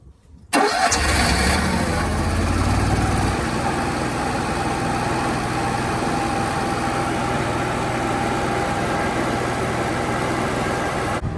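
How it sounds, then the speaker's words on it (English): A Cummins Onan 5500 gas generator in an RV cranks and catches, then settles into a steady, loud continuous running drone close by, with no talk over it. "The generator's been running for 20 minutes."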